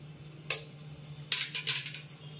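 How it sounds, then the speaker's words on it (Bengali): A spoon stirs boiling water seasoned with salt and vinegar in a cooking pot, giving one quick metallic clink and then a short burst of scraping taps against the pot over a faint steady hum. "জলটা একটু নাড়িয়ে নিলাম।"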